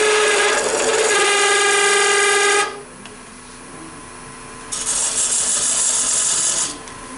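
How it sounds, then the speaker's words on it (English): Loud, steady scraping hiss of a bedan cutting a tenon on wood spinning on a lathe, cutting off after a few seconds, then resuming with a brighter whine before fading; no talk. "So with my bedan, I'll just make like a tenon on each end."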